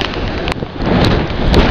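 Heavy rain and strong gusty wind of Typhoon Pedring, a loud, close roar buffeting the microphone with sharp wind bursts.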